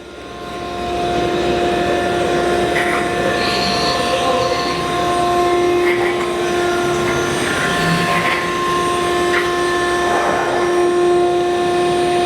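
An Okamoto 20 by 36 inch EX series high-precision three-axis automatic surface grinder runs its cycle, a loud steady mechanical drone with sustained whining tones and faint periodic swishes of the wheel passing over the work, with no talk.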